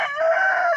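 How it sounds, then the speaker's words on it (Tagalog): A backyard rooster gives a single loud, close crow, a bright sustained call lasting just under a second with no talk over it. "Ngayon ulit natin mabibisita ang ating mga tandang."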